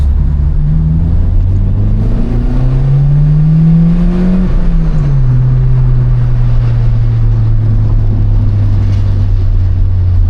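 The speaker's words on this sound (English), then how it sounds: "it's a Honda Civic" A Honda Civic Type R EP3 driving with a loud, steady engine drone heard up close, the pitch climbing under acceleration, dropping briefly at a gear change, then holding a lower, even tone.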